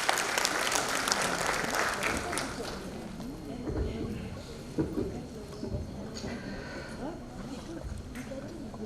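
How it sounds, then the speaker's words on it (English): Audience applause at the inauguration of an academic conference, a steady patter of clapping that gradually thins over several seconds, with scattered voices mixed in. "Please give a round of applause."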